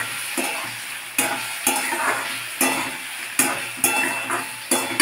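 Sago khichri with finely chopped tomatoes is stirred in a pan, a spoon scraping and knocking the metal in a regular rhythm of about six strokes over a soft sizzle, close and clear.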